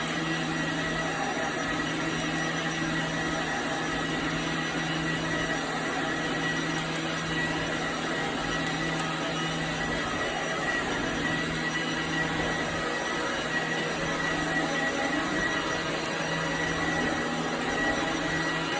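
Professional floor cleaning machine scrubbing a hardwood floor with its brushes, a steady, loud whirring motor drone with a constant hum, running alone without pause.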